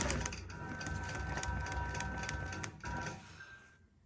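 A sewing machine runs in a rapid, even mechanical patter as it stitches the rolled cuff of a Christmas stocking. The sound is fairly quiet and close, with a short pause before a final burst.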